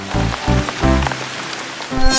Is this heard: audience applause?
no